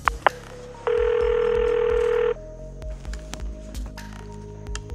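A telephone rings in a radio drama: one sustained electronic ring of about a second and a half, loud and close, followed by soft footsteps and small knocks.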